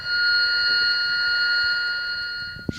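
A steady electronic cockpit alarm tone on an aircraft, as heard through the pilots' headset, holds loud and continuous with a brief click near the end and no talk.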